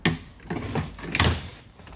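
An Audi door card trim panel being pried off, with several sharp plastic clip pops and rattling knocks spaced unevenly, close by.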